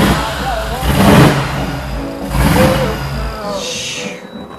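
A pickup truck engine revs in two surging bursts that rise and fall, loud and close, with a steady rumble between them before it settles back toward idle.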